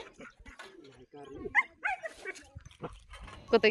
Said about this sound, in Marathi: गावाकडं अशा प्रकारे कुत्री पाळलेली असतात